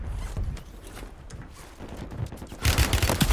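Video game gunfire in Call of Duty, bursts of automatic fire and shots crackling through a busy battlefield mix, building louder in the final second.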